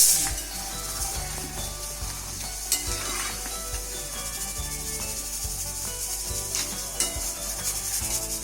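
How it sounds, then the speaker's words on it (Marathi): Potato slices for homemade chips fry in hot oil, giving a dense, continuous sizzle with occasional crackles and faint scraping as they are stirred. "आता आपल्याला गरम तेलात आपल्या बटाटे स्लाइस फ्राय करायचे आहे"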